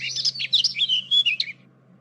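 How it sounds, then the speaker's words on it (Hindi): A rapid series of shrill bird calls, chattering and squawking for about a second and a half before fading to quiet hum. "तोतों की आवाजें पेड़ के पीछे से आ रही हैं।"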